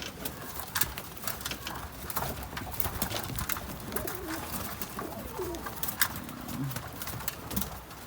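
Pigeons cooing in a loft with newly hatched young, repeated low throaty coos over scattered rustling and wing flutters, fairly close and continuous.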